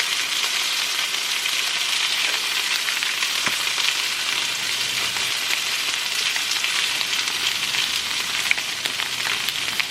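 Teriyaki sauce sizzles hard in a hot hibachi pan at home, a dense, even crackle and hiss that runs continuously and loudly close by, with no voices.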